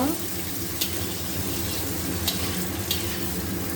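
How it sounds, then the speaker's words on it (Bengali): Rice for Bengali muri ghonto browning in a hot pan, a steady sizzle under scraping stirs with a few sharp clinks of the utensil, close and continuous. "চালটা লাল লাল করে ভেজে নেব।"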